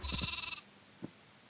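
Sheep in Minecraft give a single close, bleat that wavers for about half a second, then a faint short thump follows.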